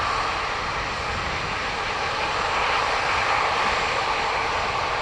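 A Ryanair jet airliner bound for Madrid, its engines a steady, loud broadband roar that holds level and close for the whole stretch with no voices over it.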